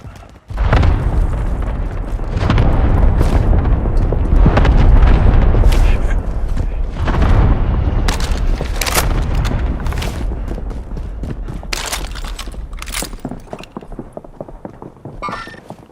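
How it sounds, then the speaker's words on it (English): Precision airstrike explosions in Warzone, a series of heavy, booming blasts rolling in close succession, loud and reverberant, followed by scattered sharper impacts and debris as the barrage tapers off. "Allied precision airstrike incoming."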